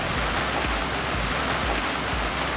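Rain falls on a Toyota Supra MKIV with a carbon fiber targa top. A steady, even hiss of drops hits the car throughout, with no talking.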